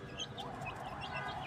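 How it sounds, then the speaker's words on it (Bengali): Rooftop chickens eating leaves and weeds give soft, faint clucks and short chirping calls, quiet and a little distant, over a low background hum. "এই মুরগিগুলো দেওয়ার পরবর্তীতে ওই যে দেখেন, মুরগিগুলো আবার সব ধরনের পাতাই খায়।"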